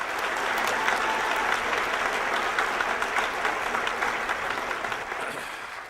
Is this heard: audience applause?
yes